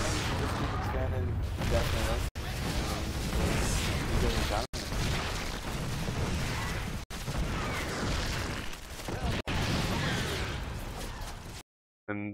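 Siege tank cannon fire during a StarCraft match, a dense, loud barrage of booming shots and explosions over constant battle noise, with brief cuts between bursts and commentators talking throughout.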